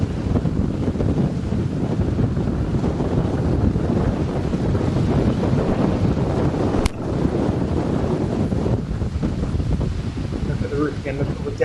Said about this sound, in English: So look how fast the wind is, it'd be impossible to stand up out there.